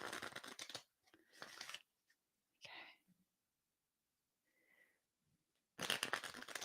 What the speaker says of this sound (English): Final deck that I'm going to shuffle.